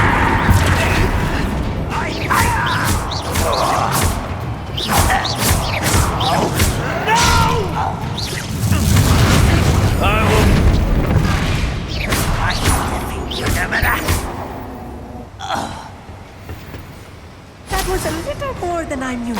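Spell blasts from the fire curse Confringo in the Hogwarts Legacy video game, heavy booming thuds and crashes repeating through a dense, loud combat soundscape, with voices speaking over the fighting.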